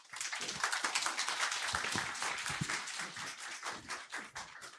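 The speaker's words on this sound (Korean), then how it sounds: "이번 연사 김세환 위원님을 뜨거운 박수로 맞아주시기 바랍니다." An audience at a Korean investment seminar gives applause to welcome a speaker, producing sustained clapping with individual claps audible, moderately soft and slightly distant, fading a little toward the end.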